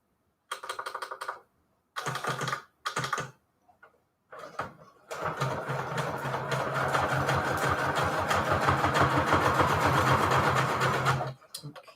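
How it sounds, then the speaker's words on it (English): Sewing machine zigzag stitching fabric down onto cardstock: a few short stop-start bursts of rapid stitching, then one long continuous run of fast mechanical chatter, close and alone. "I need to zigzag stitch these down."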